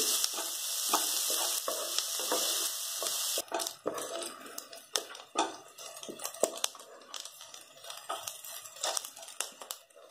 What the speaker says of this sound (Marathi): त्यात आपला कांदा भाजला